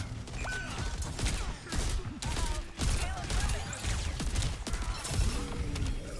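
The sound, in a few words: grenade explosions in the video game Overwatch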